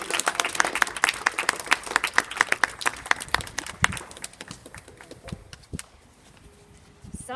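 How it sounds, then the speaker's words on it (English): Audience applause at a school speech day, a crowd clapping loudly and fast, then thinning to scattered claps and fading out, with faint voices at the end. "Let's give 5J a very big round of applause as well."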